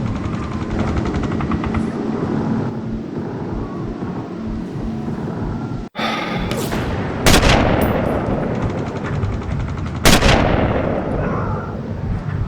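Gunfire in the video game Sniper Elite, set at a rail yard: loud sharp shots at about six, seven and ten seconds over a dense rumbling battle backdrop, with faint talk in places.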